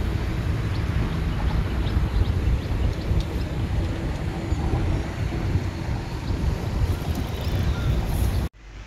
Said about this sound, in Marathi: हे बघा छानपैकी अशी हवा सुटली आहे आणि झाडं छानपैकी असे डोलतात आहे.